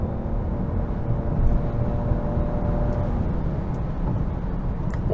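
A Nissan Qashqai e-Power accelerates from 80 km/h, heard from inside the cabin as a steady broadband road and drivetrain rumble with a faint engine drone. The noise stays constant and moderately loud throughout, with no voices.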